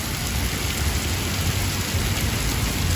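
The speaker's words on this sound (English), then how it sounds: "It's raining like crazy out" Heavy rain pours steadily outside in Manhattan, a loud, dense, unbroken hiss of water with a faint constant tone above it and no voices.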